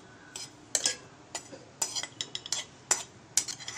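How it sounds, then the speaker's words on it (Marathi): Grated coconut dry-roasted in a pan for katachi amti, with a spatula scraping and clinking against the metal in quick irregular strokes over a faint background hiss. "कोरडंच भाजायचं आहे आणि ते व्यवस्थित ब्राऊन होईपर्यंत आपल्याला भाजून घ्यायचं आहे"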